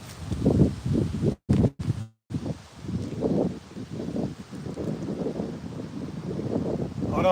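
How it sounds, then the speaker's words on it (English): Strong outdoor wind buffets the microphone in heavy, uneven gusts, producing a loud rumbling roar with brief dropouts. "Look out, that wind picking up heavy."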